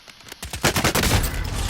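Rapid bursts of gunfire in Call of Duty: Warzone (Modern Warfare) during a battle royale match, loud and close, starting with a few sharp shots and then building into dense, continuous volleys.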